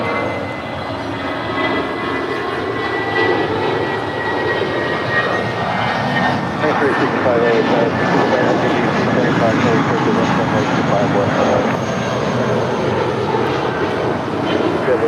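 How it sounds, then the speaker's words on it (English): A JetBlue Airbus A320 jet departs LAX for Las Vegas, its engines a loud, steady roar that swells slightly over about fifteen seconds, with broadband rumble and a faint whine throughout. "This is all because of Blue departing to Las Vegas. It's JetBlue Airways flight 1080. It's an A320."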